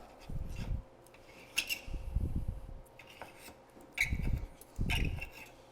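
A knife saws through cooked red beef on a plate in a few short, soft scraping strokes, quiet and close, with pauses between the cuts.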